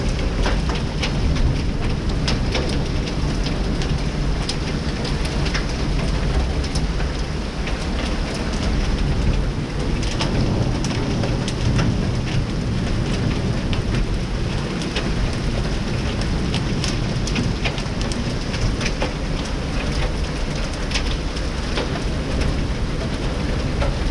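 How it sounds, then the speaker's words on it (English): Heavy rain and hail from a storm in Winnipeg, Canada pour down in a dense, unbroken roar with scattered sharp ticks of stones striking surfaces, steady and loud throughout. "I'm seeing some massive hail down inside here."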